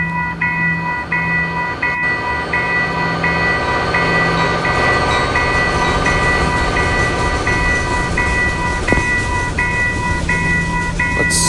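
A train passing a railway crossing in the video game Railway Crossing Creator: a loud, continuous rumble of rolling wagons under the steady ringing of crossing bells, with a horn blast near the middle, close up and with no talking.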